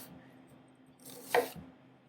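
A knife cuts through an onion on a cutting board, making one soft, brief slicing crunch in a quiet kitchen with no one talking.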